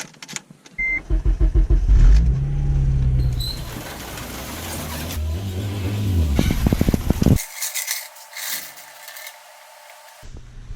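Honda Civic Si with a worn starter cranking, catching and revving up, loud and close, then cutting off into near silence before a brief restart at the end.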